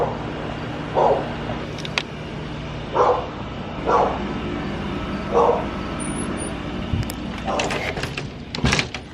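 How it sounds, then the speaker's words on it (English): A dog barks outdoors on a quiet night, sending out about five separate, spaced barks at a moderate distance, with scattered knocks and rustling nearby and nobody speaking. "Stupid dog."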